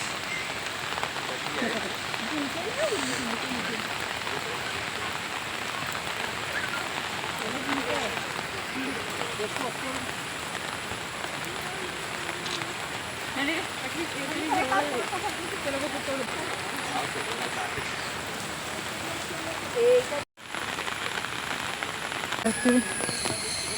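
Rain falling steadily on trees at a nature park, a soft, even patter and hiss running throughout at moderate level, with a brief dropout near the end and faint scattered sounds in the background.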